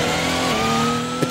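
An Audi R18 e-tron quattro race car in Assetto Corsa gives a steady, loud, droning engine tone that holds its pitch as it pulls hard, with a short burst of noise at the very end.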